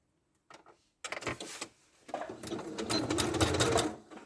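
A domestic sewing machine with a quarter-inch presser foot stitches a seam on a fabric ladybird toy, starting in short stop-start bursts and then running in a longer, steadier whirring stretch at close range.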